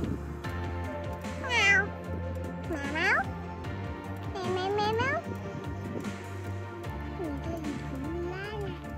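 Several distinct cat meows, four or five rising-and-falling calls spaced a second or so apart, close and fairly loud, with a low background hum and children's voices chattering around them.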